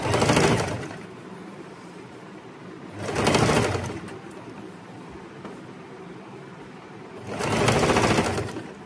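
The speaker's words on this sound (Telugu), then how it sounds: "టాప్ స్టిచ్ చేసేటప్పుడు మటుకు మనది కుట్టు ప్రిన్సెస్ కట్ మీదే పడేటట్టుగా కుట్టండి" Sewing machine top-stitching a princess-cut kurti, three loud bursts of fast whirring stitching separated by quiet pauses, close by with no talk.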